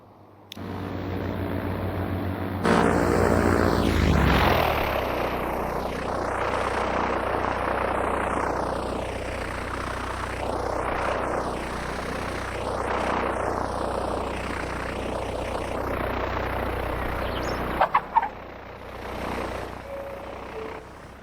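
Propeller plane in Transport Fever 2, a steady droning engine with rising and falling sweeps as it passes, preceded by a low idle and closing with a few sharp clicks.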